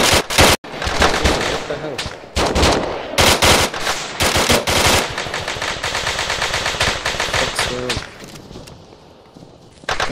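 Rapid bursts of automatic gunfire in a cooperative shooter game, loud and close, with sharp single shots and sustained machine-gun strings filling most of the stretch.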